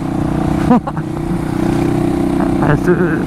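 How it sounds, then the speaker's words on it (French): A 125cc motorcycle with a Minarelli engine pulls hard under acceleration, its loud close engine note climbing and dipping through a gear change. "Ce moteur il est ouf quand même, hein, le moteur Minarelli."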